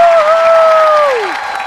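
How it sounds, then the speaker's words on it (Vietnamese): Crowd applause and cheering for performing artists at a Vietnamese show, loud and continuous, with a sustained tone and a voice calling out over the clapping. "một tràng pháo tay cho những nghệ sĩ đã tham gia chương trình"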